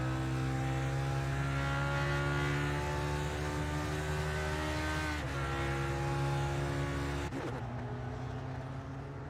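Classic race cars circling Indianapolis Motor Speedway during qualifying, heard as a sustained droning engine roar with steady harmonic tones that shift in pitch as the cars pass, fairly distant and continuous.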